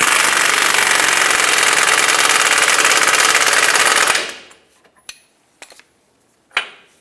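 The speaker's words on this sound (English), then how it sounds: "I'm just going to use my air gun and make it nice and tight" A pneumatic impact gun tightens a leveling kit bolt on a 2009-2014 Ford F-150 in one loud, continuous rattling burst of about four seconds, followed by a few scattered metallic clanks.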